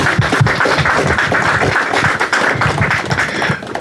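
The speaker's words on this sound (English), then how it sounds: "I'd like to give another round of applause to Jeremy Hales." An audience at a 2021 Easter Rising commemoration claps steadily in a dense round of applause, loud and continuous throughout.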